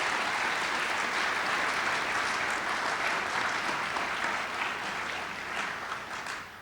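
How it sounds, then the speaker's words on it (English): An evening audience applauds four speakers after a talk on lessons from World War II, a dense continuous round of clapping that stays strong and eases off near the end. "Could we give them a round of applause, please?"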